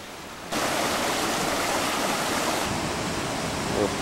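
A rainforest waterfall bursts in after a quiet moment as a dense, loud, steady rushing roar that holds unbroken to the end.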